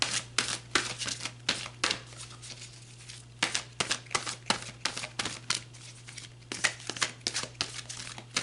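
Tarot cards shuffled by hand in a series of quick, crisp riffling bursts with short pauses between, close and fairly quiet over a low steady hum, with no talking.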